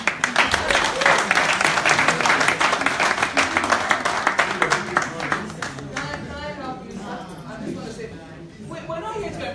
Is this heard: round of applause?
yes